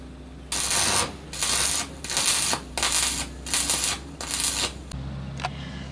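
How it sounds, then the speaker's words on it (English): Electric welding on a metal piece for a seaweed-shaped art sculpture, heard as several loud crackling, hissing bursts of about half a second each, separated by short pauses. "I'm just going to hold it in place while I actually weld it."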